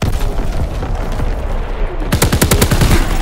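A Call of Duty WW2 Domination match on the Gibraltar map erupts in a loud barrage, with booming mortar impacts and rattling machine-gun fire hammering continuously and close throughout.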